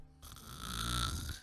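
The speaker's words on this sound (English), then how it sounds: "Wow, I snore loud." Loud snoring in a Minecraft roleplay, a single long rasping inhaled snore that swells and then fades, close and heard on its own.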